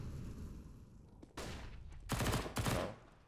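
Pistol shots in a Counter-Strike match at an esports tournament, a few sharp rapid bursts of gunfire in quick succession over a steady game background, moderately loud.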